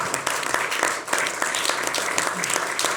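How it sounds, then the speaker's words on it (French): Applause from the studio audience of a French political talk show, a dense, steady patter of many hands clapping close by, lasting the whole stretch with a brief dip near the middle. "On peut applaudir, je pense, Ignace."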